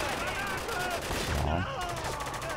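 Gunshots ring out amid a busy soundscape in the game Spec Ops: The Line, with a heavier blast near the middle and voices talking over the action.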